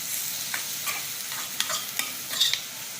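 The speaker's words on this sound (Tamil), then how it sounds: "ஒரு ஸ்பூன் எடு கலக்கலங்க சொல்லிட்டு நல்லா கலை கொடுக்கும்" A spoon stirring food in a pan over a soft frying sizzle, with several distinct metallic taps and scrapes against the pan, close by and without any voices.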